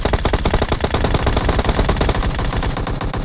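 Rapid automatic gunfire in a military-base shooter video game, a continuous loud, rattling burst of shots from start to finish with no talking.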